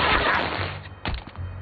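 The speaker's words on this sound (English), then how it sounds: "Everything has fireworks now." Fireworks in Luigi's Mansion 3 burst and crackle loudly, a dense noisy blast fading into a few sharp popping reports.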